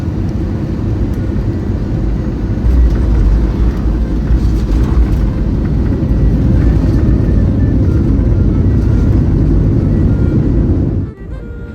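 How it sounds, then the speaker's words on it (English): Loud, steady cabin roar of an Air Albania airliner descending through fog and cloud into Istanbul International Airport, a dense continuous engine and airflow rumble that drops away abruptly near the end. "we were starting our descent down into a really foggy and cloudy Istanbul International Airport"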